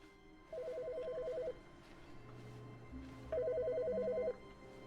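A telephone rings in the video game The Stanley Parable, two electronic trilling bursts about three seconds apart, fairly faint against a quiet low background hum.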